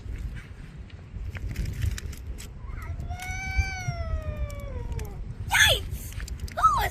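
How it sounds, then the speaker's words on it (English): A white street cat lets out one long, drawn-out meow with a falling pitch, close and clear over outdoor background noise, with brief chirpy sounds and a short noisy outburst following. "Who was saying that? It's just that white cat."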